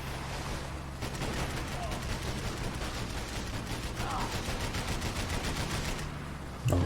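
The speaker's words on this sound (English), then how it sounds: "You have to shoot these two guys on the boat as fast as possible" Gunfire in Max Payne 3 while shooting enemies on a boat: dense, continuous rapid shots at moderate level, with a short louder burst at the end.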